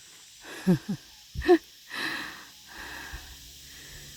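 Someone hiking a forest trail with children pants heavily, with a few sharp, close breathy gasps and wheezes followed by softer, drawn-out exhales.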